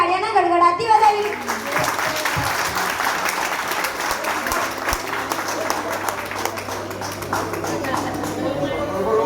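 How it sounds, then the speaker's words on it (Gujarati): An audience at a community association gathering bursts into loud, sustained clapping to welcome the trustees, with a voice over the microphone at the start and crowd murmur beneath. "આપણે જોરદાર તાળીઓના ગડગડાટથી વધાવી"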